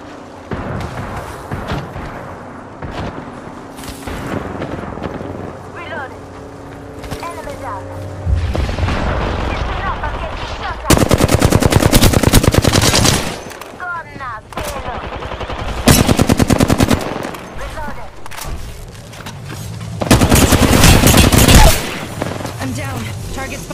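Gunfire in an Apex Legends arenas match: loud bursts of rapid automatic shots come in several long volleys separated by quieter stretches, with voices talking in between.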